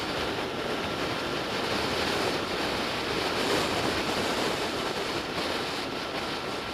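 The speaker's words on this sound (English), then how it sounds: "Oh my God, it's windy." Steady, heavy wind noise roaring across the microphone throughout, a continuous broadband rush with no voices.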